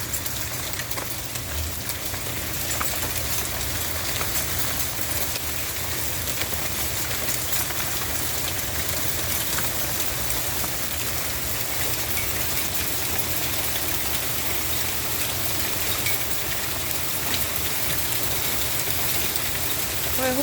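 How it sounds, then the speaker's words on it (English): Pea-sized hail falling with rain during a thunderstorm, a steady dense hiss and patter of impacts on outdoor surfaces, continuous and fairly loud with a low rumbling undertone throughout. "That's hail, pea-sized hail."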